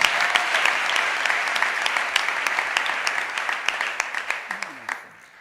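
A church congregation claps in sustained applause to acclaim the Lord at a service, dense and steady before thinning out and fading near the end.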